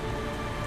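Steady rain in Resident Evil Village hisses in a brief burst, an even, dense patter over a low rumbling background.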